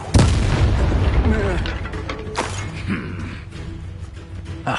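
Confringo blasting spell explosion in Hogwarts Legacy: a loud booming blast with crackling debris, followed by a second burst and a fading rumble, with voices talking over the combat.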